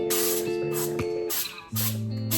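Cooking oil spray misted over salmon fillets, heard as two or three short bursts of broadband hiss, close and fairly loud, each lasting about half a second, with clinks of kitchen activity between them.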